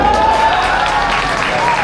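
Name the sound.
crowd applause at Garba celebration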